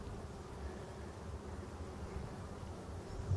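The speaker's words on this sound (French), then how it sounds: "Les abeilles sont tranquilles." Dense, steady buzzing of many honey bees at close range by a hive in a forest, a continuous low hum with no voices.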